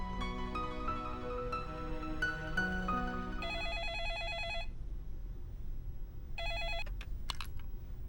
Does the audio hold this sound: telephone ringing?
yes